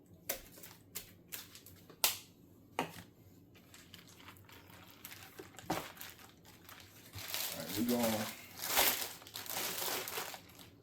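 A plastic marinade bag holding chicken crinkles and rustles, with a rising burst of zipping and crumpling at the end as it is sealed; a voice speaks briefly at the start.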